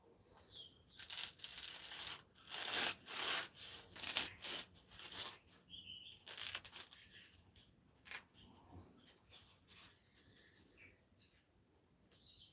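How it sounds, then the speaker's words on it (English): A blade slicing laminated foam sheets apart, a run of rough rasping and tearing strokes, close and fairly quiet, coming in bursts that thin out toward the end, with faint chirps in the background. "But now I'm just going to be slicing the laminate off."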